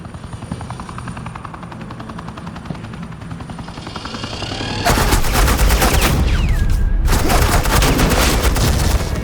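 Suppressing gunfire in the video game Batman: The Enemy Within erupts as a loud, sustained automatic volley over a helicopter's steady rotor chop, after an opening stretch of rotor noise on its own.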